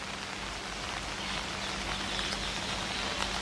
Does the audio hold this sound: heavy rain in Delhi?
yes